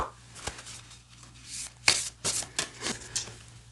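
Starseed Oracle cards by Rebecca Campbell being shuffled by hand, a run of crisp riffling bursts and soft flicks over a faint steady hum, close and fairly quiet.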